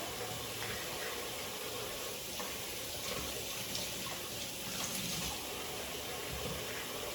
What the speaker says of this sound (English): I'm gonna rinse these off and then slice them up.